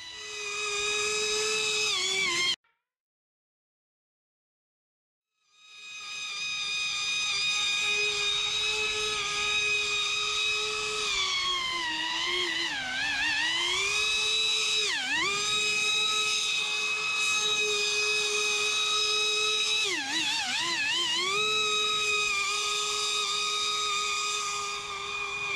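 A TFL Zonda RC speed boat's motor screaming at high speed, a loud, piercing whine with rising and dipping pitch sweeps as it passes and turns, cutting out briefly near the start before roaring back, no speech.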